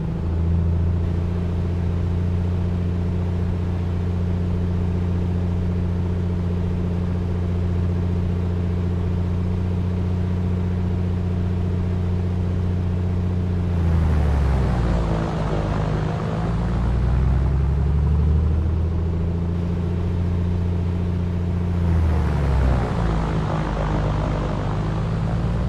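Engine run-up toward 2,000 RPM in an A2A Comanche, a single-engine piston plane in a flight simulator: a steady droning hum that surges twice to a louder, rougher roar before settling back to the idle drone.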